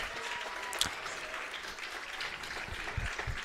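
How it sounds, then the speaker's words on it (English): A crowd at a Cal Ripken 10U youth baseball World Series game gives a steady ovation for an injured player, with moderate clapping throughout and a few sharper claps near the end. "he gets a nice ovation from the crowd"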